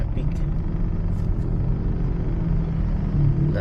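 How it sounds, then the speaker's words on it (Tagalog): Low, continuous rumble of road traffic in a busy city, with cars and heavier vehicles idling and passing nearby at steady volume, and a voice speaking over it now and then. "Ayun, traffic."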